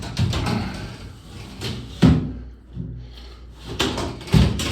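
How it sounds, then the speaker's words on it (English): An old sliding glass door in a dated 80s or 90s bathroom is tugged open, giving a few loud scraping thumps and rattles as it sticks, spaced across a few seconds in a quiet room. "The sliding glass door is less than cooperative."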